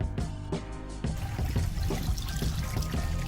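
Water rushes steadily through a Gold Fox Mini Monster sluice during a gold cleanup, a continuous close pour and splash with faint trickling and no pauses.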